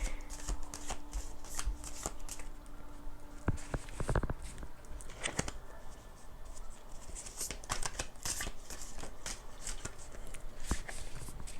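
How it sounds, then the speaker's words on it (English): Tarot cards are shuffled by hand in repeated riffling bursts and flicks, crisp papery snaps coming close and loud in irregular runs over roughly twelve seconds with brief pauses between. "I can shuffle all these cards together."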